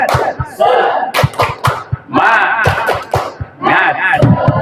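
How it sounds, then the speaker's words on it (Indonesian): A school group claps together in a cheering rhythm at a teacher training session, sharp hand claps landing in quick bursts between loud shouted chanting voices, close and energetic. "Tepuk semangat."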